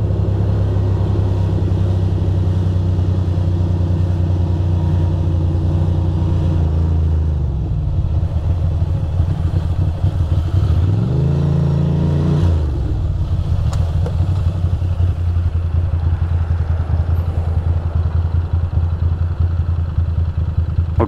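Ducati Monster 620 motorcycle engine warming up, a loud close steady idle rumble holding throughout, with a brief rise and fall in revs midway before settling back to the even low throb.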